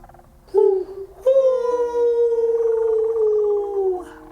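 A person imitates a wolf howling straight up at the sky: a short opening yelp, then a long sustained, slightly wavering howl that tapers off, loud and close with no other talk.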